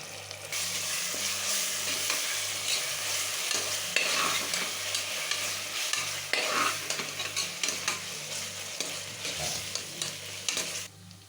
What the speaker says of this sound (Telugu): ఈ మసాలా అంతా దీనిలో వేసేసుకుని చక్కగా పచ్చివాసన పోయేంత వరకు దీన్ని ఫ్రై చేసుకుందాం